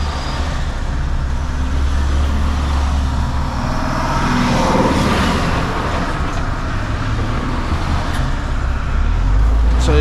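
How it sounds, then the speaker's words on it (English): Road traffic rolling along behind a truck hauling a Bell B40E articulated dump truck, a continuous loud engine and tyre rumble from inside the cab, heavy low drone with no distinct passing vehicles and no talking. "You got all that traffic behind."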